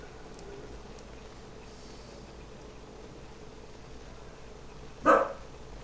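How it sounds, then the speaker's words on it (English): A dog gives a single short bark in the background near the end, after a long stretch of faint steady ambient hum. "Pardon my Momo in the background barking."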